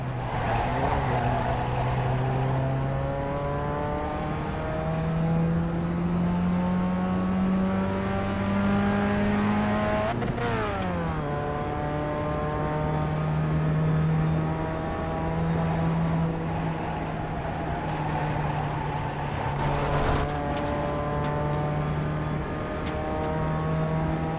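Race car engine at Summit Point Raceway heard from the cockpit, droning steadily at mid revs, then dipping sharply as the driver lifts off the throttle. It climbs again and holds a steady pitch, loud and continuous with no talk.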